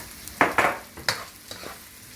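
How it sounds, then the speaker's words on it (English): Onions, green peppers and garlic hitting hot oil in a pan, with a few sharp sizzling bursts as the vegetables go in and are stirred, then a quieter hiss between scrapes. "I'm going to add my onions, green peppers and garlic that I had prepped before"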